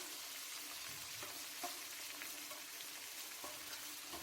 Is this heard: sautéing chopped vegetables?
yes